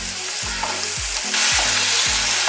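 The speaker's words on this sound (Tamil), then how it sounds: "தக்காளி வந்து பாத்தீங்கன்னா நல்லா வதக்கிக்கோங்க" Tomatoes with dried Kashmiri chili sauté in a pan with a loud, steady sizzle, broken by repeated scraping stirs at roughly half-second intervals. The hiss swells brighter partway through.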